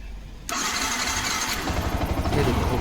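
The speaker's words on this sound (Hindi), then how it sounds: "अब देख लेते बाइक को स्टार्ट हो रहा है कि नहीं।" A Yamaha R15 motorcycle engine cranks and catches, fitted with a bypassed back angle sensor. The sudden start comes after a quiet moment and settles into a loud, steady idle rumble close by.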